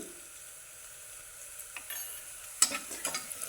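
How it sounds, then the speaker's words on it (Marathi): Rice khichdi with turmeric and curry leaves is stirred in a pan, quiet at first, then a few soft scraping strokes and faint sizzling near the end. "परत असं हलवायचं"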